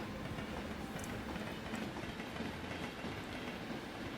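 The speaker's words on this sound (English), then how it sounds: "this is the first train coming back that's going to head up the new route" Train passing in the video game Transport Fever 2, a steady rolling rumble with rhythmic clickety-clack of wheels and a faint squeal, constant and moderately close with no talk.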